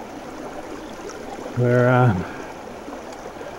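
A creek swollen after heavy rain flows with a steady, close hiss. A voice briefly speaks a single word over it.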